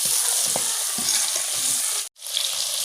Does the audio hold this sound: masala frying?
yes